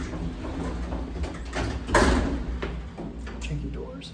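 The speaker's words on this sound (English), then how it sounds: "Janky doors." The worn doors of a vintage Otis traction elevator at the YWCA Mahoning Valley in downtown Youngstown rumble and slide, with a rattling surge near the middle, heard close against a steady mechanical hum.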